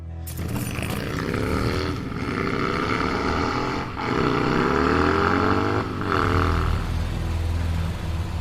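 A motorcycle engine revs hard toward 7,000 RPM, roaring loud and close in sustained surges, with the rise in pitch broken by brief dips around shifts. No one speaks.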